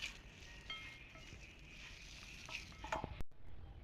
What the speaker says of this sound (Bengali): এখন আবার এগুলোকে একসাথে ভালোভাবে মিক্সড করে নিতে হবে